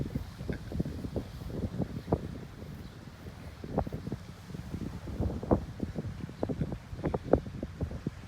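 Steady wind blowing across an open microphone, with low rumbling gusts and buffeting that rise and fall irregularly throughout.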